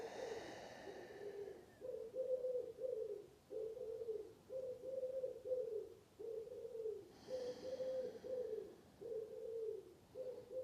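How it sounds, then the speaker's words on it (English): A pigeon coos nearby in a steady series of soft, low, rhythmic calls, repeating in short phrases with brief pauses, alone in a quiet room. "I've just been joined by a pigeon"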